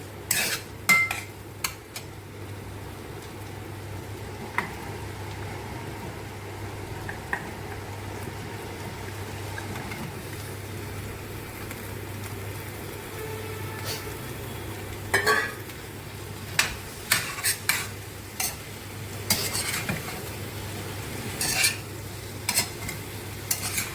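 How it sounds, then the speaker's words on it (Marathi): Cauliflower and potato for a mixed vegetable dish with peas are stirred in a pan: a spatula repeatedly scrapes and clinks against the metal over a low, steady sizzle, growing busier toward the end, with no talking. "फ्लावर बटाटा छानपैकी फिरवून घ्यायचा"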